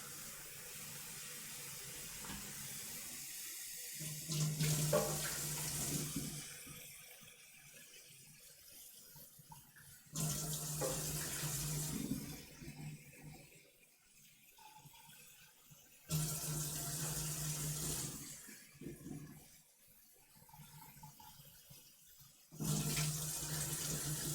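Kitchen tap running into a measuring cup for four cups of water, loud hissing bursts in four separate pours a few seconds apart, with quieter clinks and handling between them.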